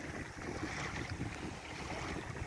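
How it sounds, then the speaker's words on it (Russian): Strong, steady wind roars into the microphone beside a reservoir during a summer fishing trip, a continuous broadband buffeting with faint water movement underneath and no voices. "Ветер сумасшедший весь день."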